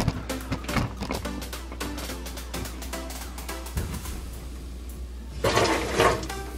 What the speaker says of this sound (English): I'm turning the faucet on from up here and it's spraying the water down here.